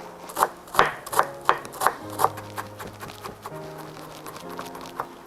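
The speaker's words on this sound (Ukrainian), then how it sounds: "І нам залишилось нарізати кріп і додати його в салатик." A knife chops dill on a board in quick regular strokes, about seven crisp cuts, then softer scattered taps as the chopping slows.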